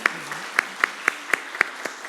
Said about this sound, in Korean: 우리 박수로 우리 축복하며